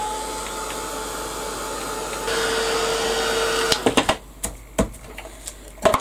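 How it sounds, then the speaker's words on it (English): A heat tool blows a steady whooshing stream of air for several seconds while drying ink or paint on a brown paper tag craft project. It then cuts off, leaving scattered clicks and light handling taps. "So I'll give that a quick dry."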